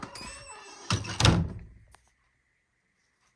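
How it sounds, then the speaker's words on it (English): A screen double door on a park cabin swings open and bangs shut, with a creaky rustle followed by two solid thuds close by, then near silence with a faint click at the end. "There's a double door, screen."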